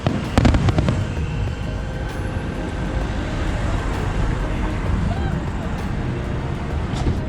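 Dense low rumbling booms of fireworks, with a sharper crackle early on, over steady street traffic noise; faint voices may be present.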